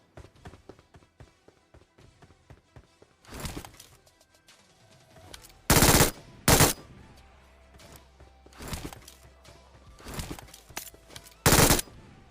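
Bursts of MG3 machine gun fire with 7.62 ammo in the mobile shooter BGMI, loud sharp volleys separated by gaps of quieter game ambience, with a few fainter shots in between.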